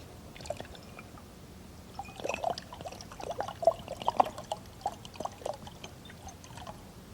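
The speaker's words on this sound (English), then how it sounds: "Here's a bottle full of water. Turn it upside down and watch carefully what happens to both the water and the air." Water glugging out of an upside-down bottle as air bubbles push in, a close series of irregular gurgles and splashes building to a busier middle, then trailing off, with no talking.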